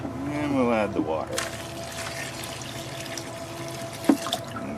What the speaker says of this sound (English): And we'll add the water.